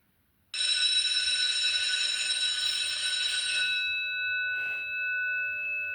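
An electric bell rings continuously and loudly for about three seconds, then a fainter tone lingers before stopping; no talking.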